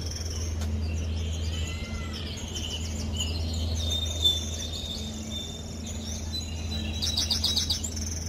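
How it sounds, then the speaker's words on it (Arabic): Steady recorded bird chirps and tweets played from speakers along an air-conditioned path at Gharafa Park, Qatar, over a constant low mechanical hum, sounding slightly artificial and evenly spread, with no talking. "هسيبكم تسمعوا صوت السماعات اللي موجودة عشان يعمل صوت زي العصافير أو الطيور"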